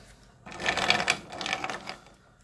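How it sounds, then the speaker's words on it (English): Bullets tumbled in a container with powder coating and drying acetone make a close, rattling, gritty clatter in two surges over about two seconds, with no voice. "The sound of that mixing change when the acetone starts to dry."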